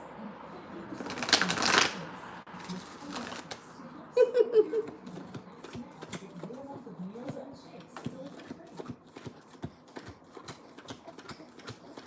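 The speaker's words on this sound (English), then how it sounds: "I'm gonna shuffle one more time." Tarot cards riffle and shuffle in repeated crisp bursts, close up, with soft handling noises and occasional light tapping between shuffles.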